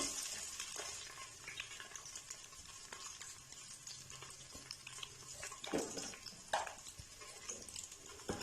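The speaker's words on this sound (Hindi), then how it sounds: "तो प्याज को हल्का गोल्डन जो है वो फ्राई कर लेंगे।" Sliced onion frying in oil that is not too hot, for a white kidney bean masala curry: a quiet, steady soft sizzle with occasional stirring scrapes and light clinks.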